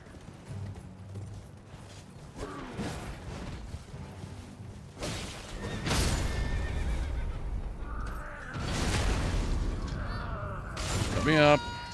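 A video game horse gives several loud whinnies and snorts, with hoof clatter and whooshing game effects, and a final sharp neigh near the end.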